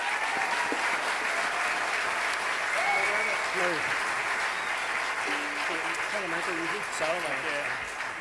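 An audience applauds steadily at a live traditional music winter school event, a continuous wash of clapping while a voice speaks over it.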